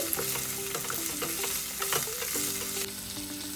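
Coriander seeds, cumin and garlic cloves fry in a pan for a tomato green chilli chutney, a steady close sizzle with scraping stirs clattering throughout, no voices.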